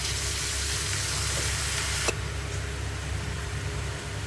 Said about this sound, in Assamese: অলপ পানী দি দিছোঁ।